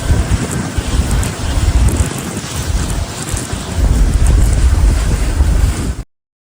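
A boat returning from a walleye fishing tournament pounds across choppy waves as wind roars steadily past, with water rushing and splashing loudly throughout before it cuts off abruptly.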